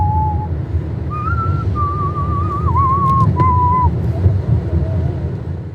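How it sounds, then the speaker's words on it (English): A person whistles a slow, wavering melody of sustained notes over a low rumble of wind or traffic. "For the music, I start how I always start, with a whistle."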